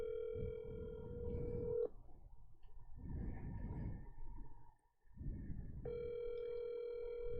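Outgoing telephone call rings with steady tone bursts: a ringback tone sounds, gives way to a quieter pause with faint background, then repeats; no one answers and the ring stays steady and fairly close.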